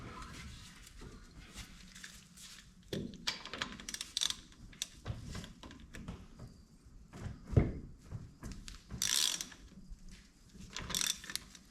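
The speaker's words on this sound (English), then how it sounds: "I'm going to go grab a wrench and we'll jerk these bolts out" Wrench and ratchet work on the drive shaft bolts of a Ford 9-inch rear end during a pinion seal repair: irregular metallic clicks, clanks and ratcheting bursts, fairly close, with no talk.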